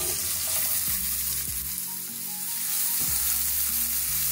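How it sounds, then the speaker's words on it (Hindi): Onions sizzle in hot oil with roasted crushed cumin, a steady close frying hiss broken by a few scraping stirs of the spoon. "प्याज को हमने हल्का सा फ्राई कर लिया 1 मिनट के लिए"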